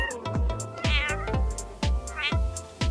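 Several cat meows, rising and falling, come in a steady rhythm close up and loud over a busy musical background, with no talk.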